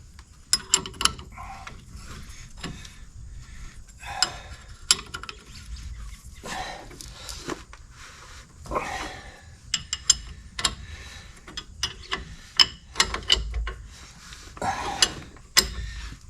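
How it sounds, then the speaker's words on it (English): Ratchet tightening bolts on the front brakes of a 2015 Silverado, a series of close clicking ratchet strokes in irregular bursts with short pauses and light metallic knocks between them. "Two in. I'm going to tighten them down good."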